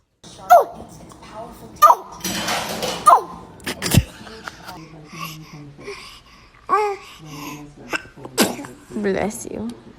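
A baby sneezes several times in quick bursts, with cooing babble and adults talking and exclaiming around each sneeze.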